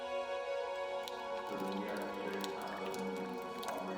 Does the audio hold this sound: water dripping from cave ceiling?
yes